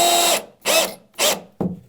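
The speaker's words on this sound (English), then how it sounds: "Just going to put 1 screw in each stud." A power drill drives screws into wall studs while wall cabinets are hung, in three loud, close whirring bursts followed by a short final one.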